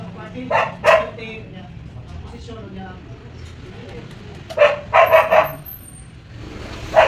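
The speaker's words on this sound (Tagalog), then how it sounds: "nag-imay naman yung aso ko" A dog barks loudly and close by in short bursts: a quick pair near the start, a rapid cluster of four in the middle and one more at the end, over a low steady background hum.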